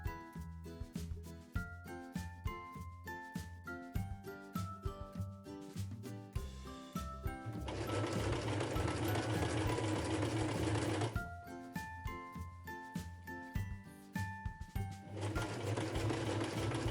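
Sewing machine stitching together the side seams of a fancy blouse, with rhythmic mechanical clatter and bursts of fast continuous running between pauses, close and clear, no talking.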